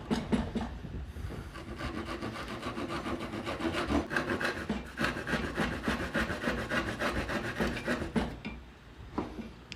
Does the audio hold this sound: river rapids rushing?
no